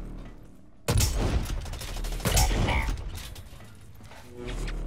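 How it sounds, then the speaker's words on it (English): Bolt-action rifle shots fired from the hip in the video game Blacklight, with a sudden loud blast followed by a second heavy shot and mechanical clatter over a busy game background. "you can do shit like customize a hip fire bolt action"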